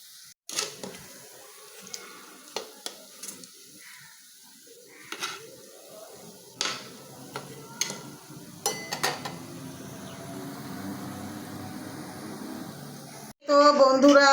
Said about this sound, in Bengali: তো আমি এগুলো লাল লাল করে ভেজে নেব।